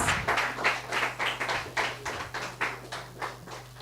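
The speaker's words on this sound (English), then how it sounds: "Your applause can be louder than that, please." Sparse applause from an audience at a live event, a small scattering of hand claps in an uneven rhythm over a low steady hum, fairly close and moderate in volume.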